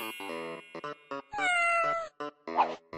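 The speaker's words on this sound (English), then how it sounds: "and a beautiful cat too." A game cat in Sakura School Simulator meows several times, short harmonic calls separated by gaps plus one longer drawn-out meow in the middle, clear and close with no talking.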